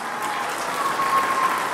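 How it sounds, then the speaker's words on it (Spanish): Audience applause at a municipal government report event in Tecamachalco, a brief steady wash of many hands clapping, moderately loud without speech over it. "un aplauso muy grande para ellos"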